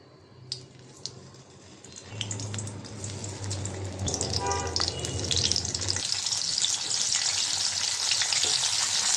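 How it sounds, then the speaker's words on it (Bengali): Slices of eggplant and pointed gourd fry in a pan, starting with a few clinks and a low hum before the sizzling builds into a loud, steady, close crackle. "শর্টকাটে বেগুন ভাজবো আর পটল ভাজবো"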